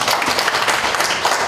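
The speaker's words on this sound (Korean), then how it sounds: "네, 박수 한번 주세요." An audience claps steadily at a small-scale apartment reconstruction briefing, a dense wash of applause with no pauses.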